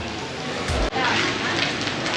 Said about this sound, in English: we have been waiting for the rain, which is still going and won't stop